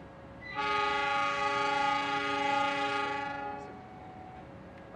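The Cikuray passenger train sounds its horn at the station as it departs: one long, loud, steady blast lasting about three seconds, then a quiet rail-yard background.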